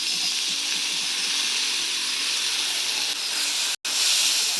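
Chopped tomatoes sizzle loudly and steadily as they are added to banana flower frying in a pan for a spicy Jaffna-style fry, a dense continuous hiss with a brief cut near the end.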